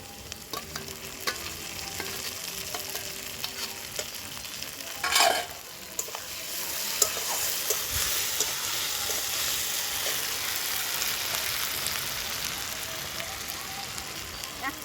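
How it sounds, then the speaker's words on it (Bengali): Lightly fried onions sizzle steadily in a pan as ground spice paste goes in, with a brief burst of sharper hissing and scraping partway through, then a continuous close frying crackle. "পেঁয়াজটা হালকা ভেজে নিয়েছি, এবার বাটা মশলাগুলো দিয়ে দেব।"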